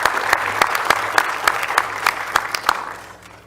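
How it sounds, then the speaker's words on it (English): Audience at a county board of commissioners meeting applauds in a room, a dense wash of many hands clapping with sharper individual claps standing out, fairly loud, then tapering off at the end. "I think they deserve a round of applause"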